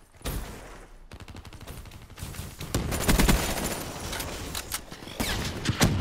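Rapid bursts of shotgun fire in the video game Call of Duty Black Ops 3, loud and fairly continuous with dense overlapping shots and short pauses.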